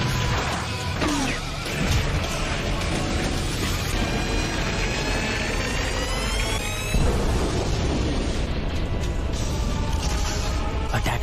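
Anime explosion from Deidara's C4 attack in a Naruto Shippuden fight, a loud sustained blast with crashing debris and rising whistling tones, dense and unbroken for several seconds.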